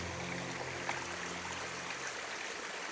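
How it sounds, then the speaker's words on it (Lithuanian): A mountain stream runs through a forest, its steady broadband rush and trickle holding an even level throughout, with a faint low hum in the first part. "Radau upelį."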